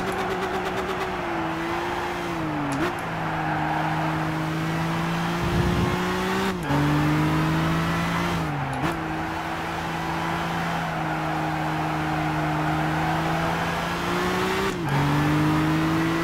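Race car engine in Gran Turismo 6 during a qualifying lap, a loud, steady high-revving drone that dips and jumps at each gear change, with brief tire scrubs, close and continuous without talk.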